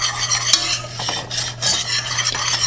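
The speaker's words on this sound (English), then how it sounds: "And then we can whisk that in." Xanthan gum whisked into cooked blueberries, a steady close scraping and swishing of a whisk against the pot with rhythmic strokes and faint sizzle, fairly loud and continuous with no talk.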